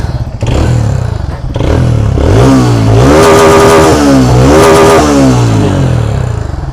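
A TVS Radeon BS6 motorcycle engine starting after new piston rings were fitted, then running loud and close with rising and falling revs and a clattering piston noise.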